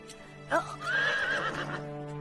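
A horse whinnies in an animated Little Krishna cartoon, a single rising and wavering neigh of about a second, clear and close over a soft background hum.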